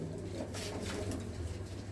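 A black Cheena pigeon hen with heavily feathered feet coos steadily in low, soft, continuous tones, close by, with a faint hiss of background noise and no talking.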